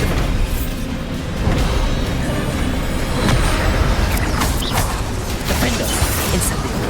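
Bombarda, Incendio and Confringo spells cast in Hogwarts Legacy combat, a run of booming blasts, crackling bursts and crashes layered over continuous game noise.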